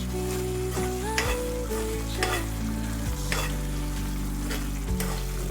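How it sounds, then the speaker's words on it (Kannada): Masala for chole fries in oil with a steady sizzle, punctuated by a few sharp stirring scrapes about every second or two, over a sustained tonal hum in the background. "ಇದು ಎಣ್ಣೆ ಬಿಟ್ಟಾಗೆ ಬರಬೇಕು ಯಾವಾಗಲೂ, ಅಲ್ಲಿ ತನಕ ಇದನ್ನು ಫ್ರೈ ಆಗಬೇಕು."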